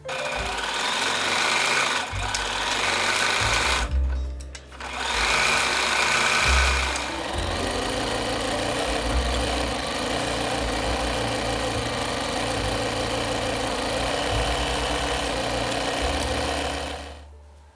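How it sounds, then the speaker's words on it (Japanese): A sewing machine stitches the side seams of a gauze jacket, running in long steady whirring stretches with a brief stop and restart, a close, mechanical hum with no talk. "脇を縫おう。"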